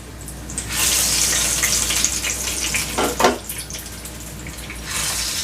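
Kanankatha (mackerel) fish sizzles steadily in a frying pan, a continuous close hiss with a brief louder flare in the middle and no voices.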